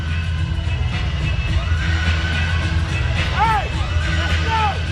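Stadium crowd at a football game roaring after a touchdown, a dense sustained wash of cheering and whoops under continuous play-by-play commentary.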